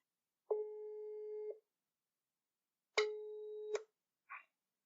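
Telephone ringback tone while calling a podcast guest: two long, clean steady tones about a second apart, close and alone, followed by a brief click as the line connects.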